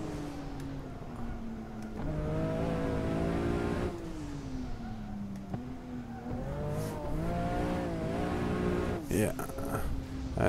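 Porsche GT2 RS MR engine in a racing video game, revving and pulling hard out of corners with rising and falling pitch as gears change, steady and fairly close, someone talking over it throughout.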